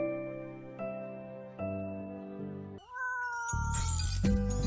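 A cat meows from inside a cup, giving several drawn-out, tonal meows that rise into a higher, strained cry near the end, with background music underneath.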